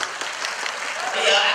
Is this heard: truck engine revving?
no